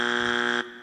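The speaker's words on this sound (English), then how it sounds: "It is so much fun to hear that buzzer, isn't it?" Timer buzzer at a panel discussion sounds one loud, steady electronic buzz lasting about half a second, then cuts off abruptly with no talking over it.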